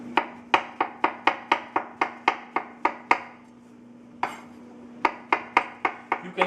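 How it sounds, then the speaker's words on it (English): A knife chops portobello mushrooms on a board, crisp evenly spaced thuds in a quick steady rhythm, pausing once before the cutting resumes at the same pace, close and clear. "we're gonna cut our mushrooms"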